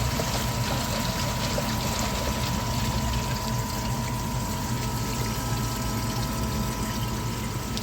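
Water from a koi pond filter rushes out through an opened valve as it drains, a steady, loud gushing with a constant pump-like hum beneath, unbroken throughout.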